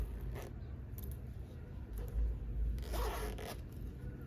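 Zipper on a crocheted pouch running open or shut in several short rasping pulls, close and fairly quiet, with no voices.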